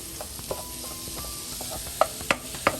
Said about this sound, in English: add a tablespoon of butter in a pan. And let those guys get to sauteing. Stir until they're lightly brown